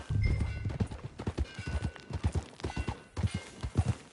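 Horse hooves clip-clop at a steady riding pace in Red Dead Redemption 2, the rhythmic thuds close and prominent, with a brief whinny-like tone near the start.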